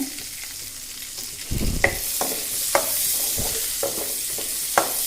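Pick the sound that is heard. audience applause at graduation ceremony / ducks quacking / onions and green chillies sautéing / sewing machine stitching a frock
onions and green chillies sautéing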